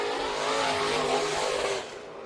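A modified race car laps Bakersfield Speedway, its engine roaring loud and close in a steady, dense drone that fades slightly at the end, with no voices.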